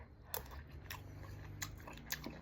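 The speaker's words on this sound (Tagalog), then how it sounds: "titikman ko yung binili ko sadya na adobo sa gata" Chewing on adobo sa gata, adobo cooked in coconut milk, bought in San Jose, Batangas. A few soft crunchy bites sound close to the mic over a quiet background hum.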